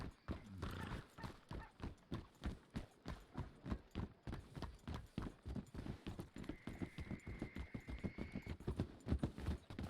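Rhythmic clip-clop of horse hooves at a steady canter in the Red Dead RP video game, loud and continuous, with a brief whinny near the start and a faint tonal hum partway through.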